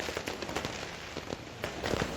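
Heavy rain pours over Timika on New Year's Eve 2023 while fireworks and firecrackers go off nearby, making a steady downpour hiss broken by scattered sharp pops and crackles.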